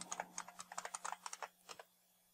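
Quick bursts of keystrokes on a computer keyboard while a password is entered for an Ubuntu 22.04 server update, about fifteen close, crisp clicks in an uneven rhythm that stops short, with no talking.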